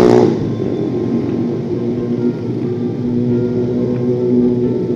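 A big motorcycle engine, a Kawasaki ZX25R, holding a loud steady rumbling drone with a gritty growl throughout, heard close and continuous.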